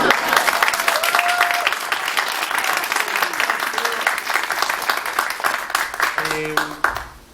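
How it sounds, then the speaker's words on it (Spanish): Audience applause at a book presentation, dense sustained clapping from a room of people with some voices mixed in, tapering off near the end. "yo quería pedirle un aplauso para Santos que está acá."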